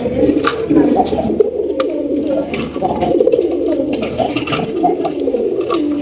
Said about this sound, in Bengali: খুবই সুন্দর চমৎকার একজোড়া ব্লু শার্টিন কবুতর বামেরটা নর আর ডানেরটা মাদি দেখতেই পাচ্ছেন কিরকম ডাকতেছে